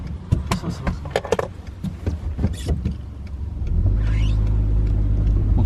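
A damaged car being started and driven off, clattering and knocking sounds at first, then a steady loud engine drone with a rising whine from about four seconds on.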